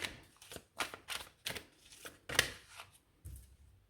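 Tarot cards being shuffled for a reading, a series of sharp riffling bursts and soft slaps in an irregular rhythm, close and fairly quiet with no talk.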